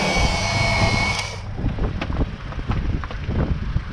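A starter motor on a 2004-2008 Acura TSX whirs loudly and steadily for about a second and a half, then drops to a lower, rougher rumble with scattered clicks and knocks, heard up close.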